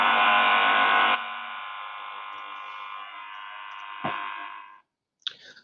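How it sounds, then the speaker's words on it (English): Steady electrical buzz picked up on a partial discharge sensor, a mechanical, magnetic hum like a transformer, loud at first, then easing to a constant drone with a short crackle before cutting out. "it's more of a mechanical sort of magnetic type noise"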